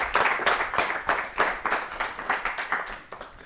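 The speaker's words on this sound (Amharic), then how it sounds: "እሺ ለሁለቱም አጨብጭቡላቸው" An audience at a children's TV quiz show claps for two participants, a lively burst of roughly even hand claps that thins out toward the end.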